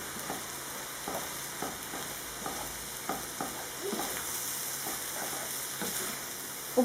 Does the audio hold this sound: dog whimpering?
no